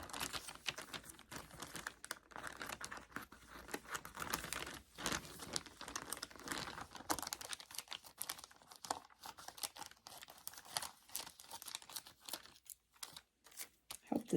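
Scissors cut through material for cat toys, two pieces at a time, giving a continuous close crinkling, snipping rustle with uneven bursts and no talking.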